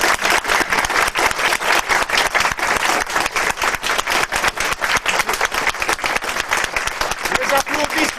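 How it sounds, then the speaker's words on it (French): An audience at a painting competition event applauds the artist with brisk, steady clapping from a modest crowd, close and fairly loud, sustained throughout without a pause. "recevoir les applaudissements du public."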